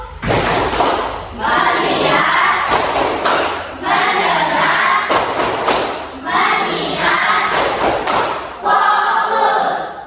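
A classroom ice-breaking clapping game led by a teacher, with a group clapping loud patterned bursts of rhythmic claps separated by short pauses, repeating in bouts across the whole stretch.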